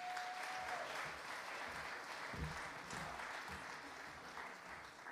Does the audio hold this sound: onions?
no